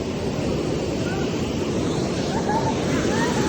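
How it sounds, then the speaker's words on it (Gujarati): Water rushes and falls at Banas dam, a constant loud roar with no breaks, close and enveloping like heavy surf. "બાકી જોરદાર પાણી પડે છે"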